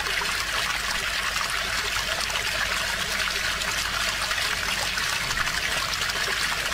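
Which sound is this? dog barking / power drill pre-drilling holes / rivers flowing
rivers flowing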